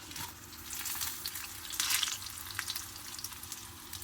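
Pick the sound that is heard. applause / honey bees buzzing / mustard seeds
mustard seeds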